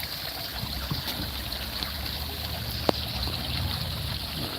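Steady rushing water from a waterfall inside a video game, a constant broadband wash that holds even and continuous throughout, with no voices over it.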